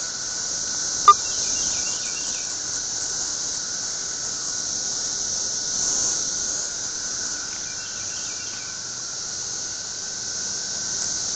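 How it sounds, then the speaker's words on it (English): A cicada drones in a steady high-pitched buzz that runs unbroken and fairly loud the whole time, joined by a brief sharp click near the start and faint chirps here and there, with no talking. "Tim, you want a cicada?"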